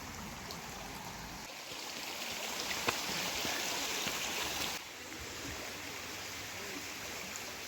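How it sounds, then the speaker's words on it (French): A small stream flows beside a forest hiking path on the Tour des Clapes, giving a steady, fairly close rushing and trickling wash that swells slightly in the middle and then settles, with no talk over it. "on a déjà un petit ruisseau là"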